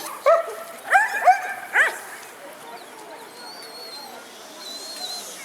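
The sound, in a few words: female herding dog barking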